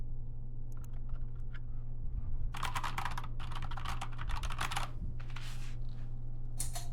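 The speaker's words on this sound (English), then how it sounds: "The clicking sound comes when the keycaps bottom out on the base of the keyboard." Typing on a BOYI IK87 75% mechanical gaming keyboard with soft keys, clicking in quick bursts close by, with a pause between flurries and a steady low hum beneath.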